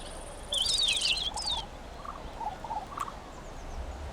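Archaeopteryx calls inside a zoo enclosure in the game Prehistoric Kingdom: a quick burst of high, warbling, gobble-like chirps, followed by softer scattered peeps and clicks over a steady ambient hiss.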